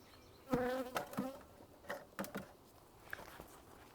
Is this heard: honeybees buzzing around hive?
yes